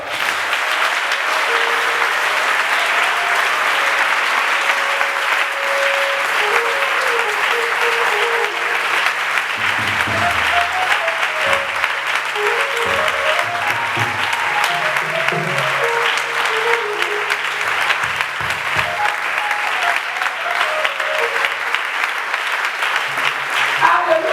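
Church congregation applauding during a French-language sermon on prayer, a loud sustained wash of clapping lasting throughout, with voices and shouts mixed in underneath.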